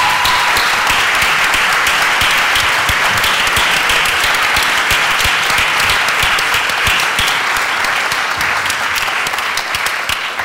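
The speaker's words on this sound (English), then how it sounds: "Audience, please join me in a round of applause." A school board candidates forum audience applauds, dense sustained clapping filling the room at steady volume for about ten seconds, tapering slightly at the end.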